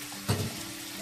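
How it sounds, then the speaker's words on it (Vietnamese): Potato pieces fry in hot oil, giving a soft continuous sizzle with a brief louder bubbling burst near the start, heard alone at close range. "Mình chiên từ từ nha các bạn."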